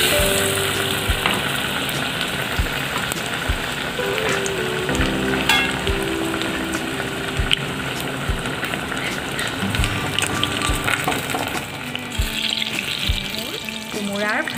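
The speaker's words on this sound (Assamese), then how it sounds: "কোমোৰাখিনি ফ্ৰাই কৰি দিছোঁ।" Pumpkin slices dipped in gram flour batter fry in hot oil with a steady close sizzle and crackle throughout, along with occasional clinks and stirring sounds.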